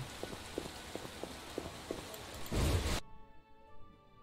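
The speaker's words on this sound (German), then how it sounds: "Regnet's schon wieder?" Steady hiss of rain falling in The Witcher, with soft regular footsteps crunching through it, then a brief louder burst before the sound cuts to quieter tones.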